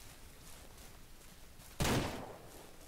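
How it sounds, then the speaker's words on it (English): A single gunshot in the video game Ranch Sim, a sudden loud broadband burst that decays over about a second, heard alone with no talk over it. "Just heard a gunshot."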